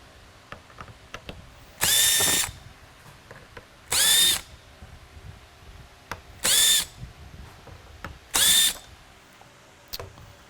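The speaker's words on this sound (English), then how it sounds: "on the top, the 4 retainer screws will be removed as well." A power driver whirs in four short, loud bursts as it backs out retainer screws from the top of a Whelen Liberty II mini lightbar, with faint handling clicks between.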